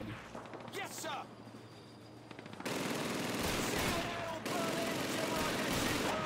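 Rapid machine gun fire from an MG in the World War II shooter Call of Duty 2, loud and sustained, bursting in midway through with steady dense fire and a brief dip, while a voice talks over it.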